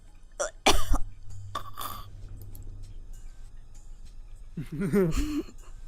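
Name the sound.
voice imitating intense coughing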